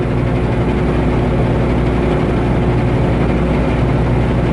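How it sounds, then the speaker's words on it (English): A truck engine idles with a steady low rumble, with a faint rapid tappet valve ticking running through it, close and constant. "Sydney Jane here has got that kind of like a tappet valve sound to it."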